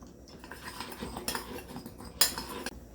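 A utensil scrapes and clinks against a pan while Italian seasoning is stirred into a Parmesan cheese sauce, with soft repeated strokes and one sharper metallic clink near the end.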